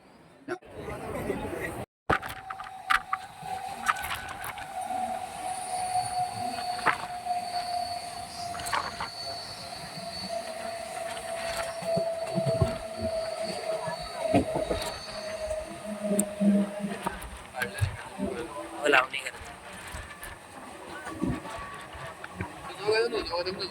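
A train arrives and rolls through a station, with a long squealing tone from the wheels, rumbling carriages and occasional clanks over most of the stretch, heard from inside or close by.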